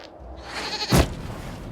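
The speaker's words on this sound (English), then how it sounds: "we discovered this man attacking the building with a goat." A goat bleats once in Dragon Age Inquisition, a short loud cry that rises over low background game ambience.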